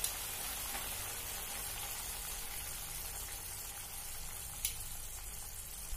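Potato curry (rassa) for a fasting meal boiling in a covered pot, giving a steady soft bubbling hiss that runs evenly throughout with a faint tick near the end.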